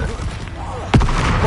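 Bombarda blasting spell explosion in Hogwarts Legacy, one sudden booming burst that cuts in sharply, close and loud, with game voices and effects around it.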